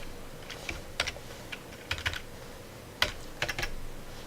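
Sparse, crisp keystrokes on a computer keyboard while code is entered, arriving in small clusters with gaps, near and alone over a low steady background hiss.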